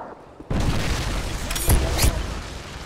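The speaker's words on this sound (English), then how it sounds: "Friendly Predator missile inbound." A Predator missile strike in Modern Warfare 3 hits with a sudden loud boom, followed by a rumbling roar and two sharper blasts close together.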